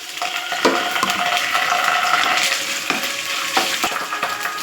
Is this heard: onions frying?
yes